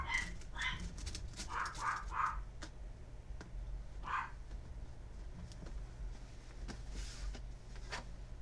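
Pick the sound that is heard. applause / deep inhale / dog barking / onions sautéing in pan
dog barking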